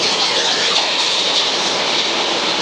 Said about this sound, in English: Now we have a hailstorm.